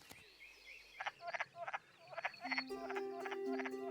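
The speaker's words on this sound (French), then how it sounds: "Et puis, il y a la grenouille des bois." Wood frogs croak in a wetland, a rapid series of clucking, duck-like calls that come in quick rhythmic clusters at moderate distance, layering into a small chorus toward the end.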